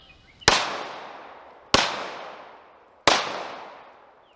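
A pistol fires three loud, close shots about 1.3 seconds apart while the shooter moves side to side. Each crack trails off into a long echo, with no talk.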